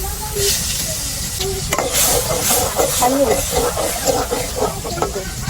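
Fish sautés in a pan in nothing but its own rendered oil, giving a continuous loud sizzle with bursts of hiss and spattering, stirring scrapes mixed in.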